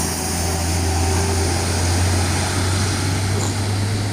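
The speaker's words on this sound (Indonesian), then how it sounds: "ini ada bus ALS masuk jam 9:41" An ALS Scania K360 intercity bus pulls in, a loud, steady low engine drone with a constant hum and broadband roar, close and continuous throughout.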